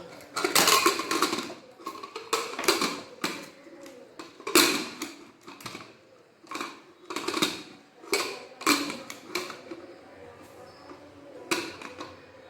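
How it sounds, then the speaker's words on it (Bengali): A metal lid is set onto a pot of chana dal, potatoes and tomato, with a series of clanks, taps and scrapes of metal on metal in irregular bursts, fairly close and without talk. "এরপর ঢাকাটা লাগিয়ে নেব"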